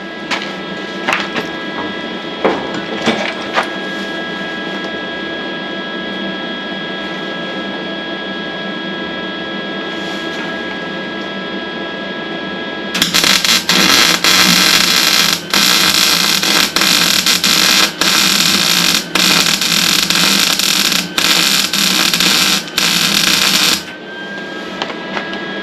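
Welding on a snowplow cutting edge for reinforcement, beginning as a quieter steady buzz with clicks, then switching to a loud harsh continuous crackle with brief breaks before cutting off near the end, with no voices.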